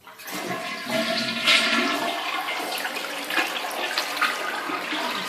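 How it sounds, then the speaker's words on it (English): A toilet in a house flushes nearby, starting with a sudden rush that swells into a gurgling swirl of water. The water keeps draining and refilling steadily to the end, with no voices. "Flush is just fine."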